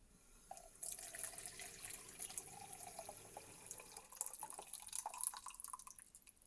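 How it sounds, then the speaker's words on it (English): Water poured into a stream table, a steady splashing trickle with fine dripping that runs for several seconds, close and moderately loud with no talking. "Gonna add a little bit more water."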